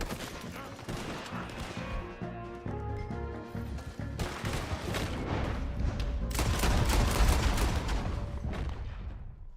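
Dense, loud gunfire from a shootout in the video game Red Dead Redemption 2, with rapid overlapping shots and booms that build into a sustained barrage with no pauses.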